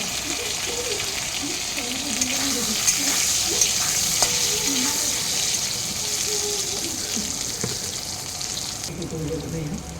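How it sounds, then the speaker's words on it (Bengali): Fish pieces frying in hot oil for a katla curry, a steady close sizzle with bright hissing throughout, occasional stirring clinks, and a voice talking faintly underneath. "এখন আমি গাঠিগুলো ভেজে নেব।"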